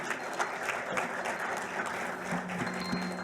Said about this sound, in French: Est-ce qu'on peut acclamer pour Monsieur Joël, s'il vous plaît?